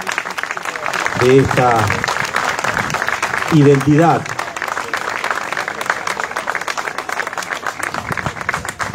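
Audience applause at the launch of a tourism app in Goya, Argentina, steady clapping from a gathered crowd running throughout while someone speaks over it near the start.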